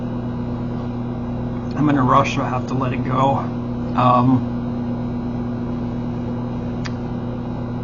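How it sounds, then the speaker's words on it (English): A steady, close electrical hum from a running microwave drones throughout while a person talks briefly over it. "Sorry about the noise you hear, that's in my microwave."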